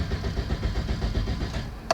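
A Toyota Corolla engine cranks without catching, a steady rhythmic churning of the starter repeating about eight times, close and loud, then a short click at the end and no speech.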